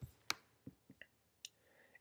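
A few sharp, quiet computer mouse clicks spaced irregularly, spaced apart, in a near-silent room with no talking.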